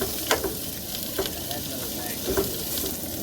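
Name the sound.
onions frying down in a pan at camp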